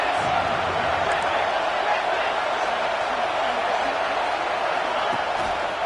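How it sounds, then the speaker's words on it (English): A packed football stadium crowd roars in a dense, constant wash of noise that holds steady without a break, loud and enveloping throughout. "This crowd ready to make its presence known."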